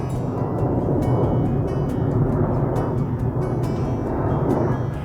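An airplane passes overhead outdoors, a broad, steady roar that holds at even loudness for several seconds, with faint clicks and ticks scattered over it.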